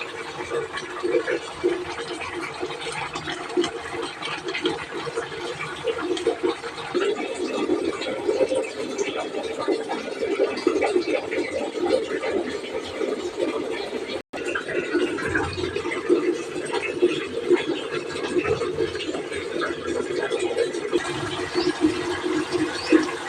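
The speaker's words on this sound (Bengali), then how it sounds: "ফুটে উঠেছে, এবার মিডিয়াম আঁচ করে ঢাকা দিয়ে রাখবো, এটা সেদ্ধ হবে।" Fish curry with bori bubbling in a covered pot over medium heat, a steady low simmering hiss and gurgle that runs unbroken and fairly close, with a brief dropout partway through.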